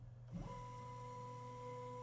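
An Original Prusa MK4 3D printer runs its Z axis calibration, motors starting with a soft clunk and then a steady, sustained whine of tonal hum, close and continuous with no voices.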